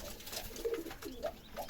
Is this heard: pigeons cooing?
yes